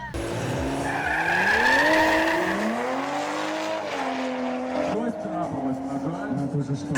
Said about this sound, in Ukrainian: задача прогріти шину до робочої температури, щоб вона краще тримала покриття